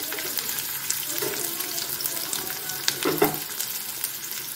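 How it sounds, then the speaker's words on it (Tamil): Onions sautéing in a pan for drumstick rice, a continuous close sizzle with occasional scraping stirs and brief louder crackles partway through, heard without talk. "வெங்காயம் இந்த அளவுக்கு போட்டுக்குவோம். நல்லா வதக்கிக்குவோம்."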